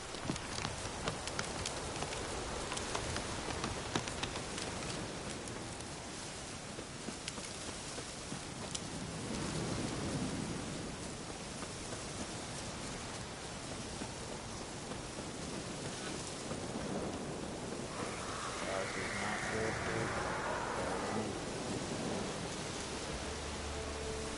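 Steady rain falling in The Witcher 3 video game, a dense continuous hiss of rainfall with faint rumbles mixed in, lasting throughout with no speech.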